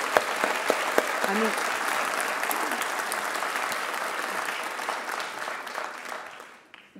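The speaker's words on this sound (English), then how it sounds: "I feel like it deserves a bit of a round of applause." An audience at a BAFTA Cymru event applauds steadily for about six seconds while someone speaks briefly over the clapping, and the sound then fades out.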